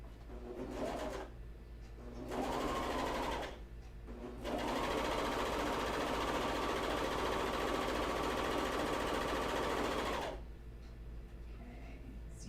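A serger stitching underwear fabric runs in bursts, first two short whirring runs and then one long steady stretch of rapid mechanical stitching, stopping with a quiet pause between runs.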